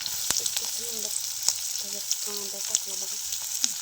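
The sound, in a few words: onion frying with curry leaves in a pan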